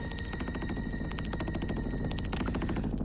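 Rapid, continuous automatic gunfire from a video game trailer, dense and loud, with a steady burst rhythm lasting the whole stretch and a sharper crack near the end.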